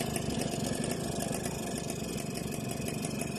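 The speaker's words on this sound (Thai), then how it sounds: "มาฟังสตาร์ทกันนะครับ" A Suzuki Crystal motorcycle with a manual kick start idles close by, its engine running in a steady, even rumble for the whole stretch, with no voices.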